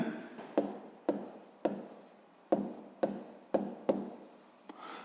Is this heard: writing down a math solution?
yes